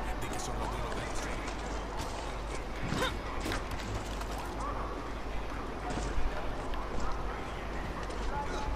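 Donkey hooves clip-clop steadily through a busy Far Cry 6 game scene, with creaking, mechanical tack noises and someone talking over the hoofbeats.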